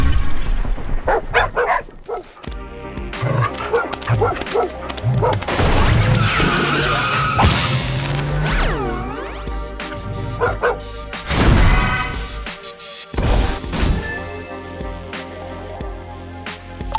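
A pack of dogs barks and yips in the mobile game Days of Planet Earth, loud bursts and crashes over game music, with short whimpers between.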